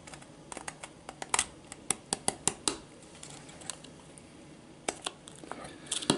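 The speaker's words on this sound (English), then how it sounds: "I have this dull, terrible razor blade, but at least get it" A dull, worn razor blade slicing through a plastic control panel overlay gives a series of small, sharp scraping ticks and clicks, close and fairly quiet, with short pauses between strokes.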